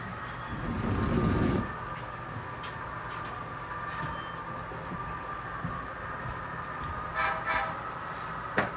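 A train hauling construction equipment rumbles past at moderate distance, a steady low rolling drone with a faint horn-like toot near the end and no talking.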